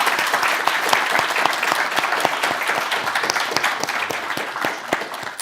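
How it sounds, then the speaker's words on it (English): Steady applause from an audience at a debate event, dense clapping holding at an even level throughout without talk over it. "Could we have a round of applause for our panel tonight?"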